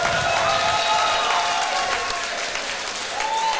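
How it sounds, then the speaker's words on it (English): Crowd applause fills a Muay Thai event hall for two young fighters, a dense, steady wash of clapping with light cheering that carries through at an even loudness. "Ladies and gentlemen, another round of applause for both of these boys."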